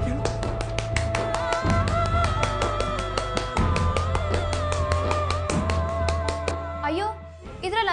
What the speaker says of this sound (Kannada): ಅಲ್ಲಿ ಚಪ್ಪಾಳೆ ಕೇಳಿದೆ ಅಲ್ವಾ ಮಗಳೇ, ಇಲ್ಲಿ ಕೇಳು.